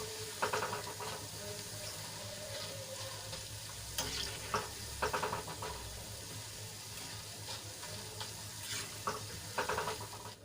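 Besan snack fries in hot oil, giving a steady close sizzle with scattered crackles and faint stirring scrapes throughout.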